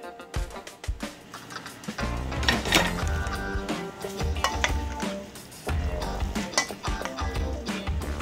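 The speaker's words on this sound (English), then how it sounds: "So that goes in the potato salad, and we're gonna mix this together." A bowl of roasted potato salad with kale, dressed in balsamic and Dijon with artichoke hearts, is stirred gently with utensils. Soft scraping, clinking and wet tossing sounds come in irregular strokes, close by, with no talk.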